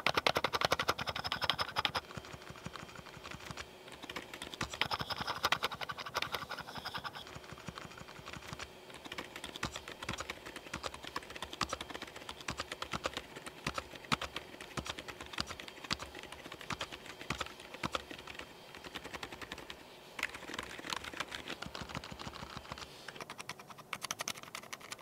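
Typing on a Monsgeek M2 mechanical keyboard with modded stabilizers, heard up close at the keys: a continuous, fairly loud run of clacky keystrokes with no talking.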